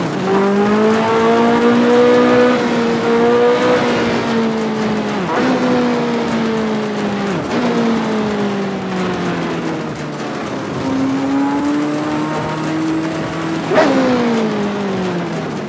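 A Ford RS200 Evo rally car in a racing video game drives a stage with a loud, continuous engine drone. The pitch climbs and drops through several gear changes, and faint tire noise sits underneath with no speech.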